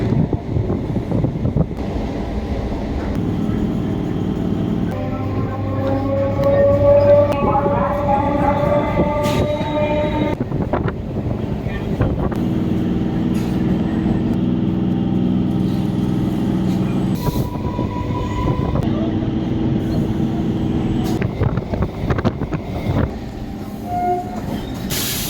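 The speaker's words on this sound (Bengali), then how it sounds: "বললাম ট্রেনে যাচ্ছি শিয়ালদা" The Maa Tara Express rumbles steadily along the rails towards Sealdah, a loud continuous rolling roar with rhythmic wheel clatter, brief metallic squeals and wind buffeting the microphone.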